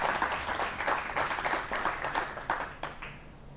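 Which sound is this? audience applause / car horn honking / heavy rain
audience applause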